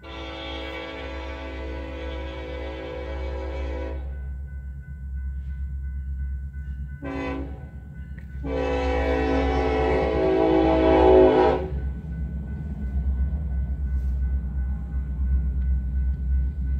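A train passing with two long horn blasts, the first about four seconds and a second after a brief toot, over a steady low rumble of rolling cars that carries on after the horn stops.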